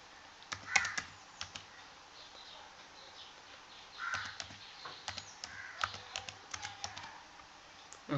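A UAN number is typed on a computer keyboard in short bursts of quiet, close clicking keystrokes with pauses between them, and crows call faintly in the background.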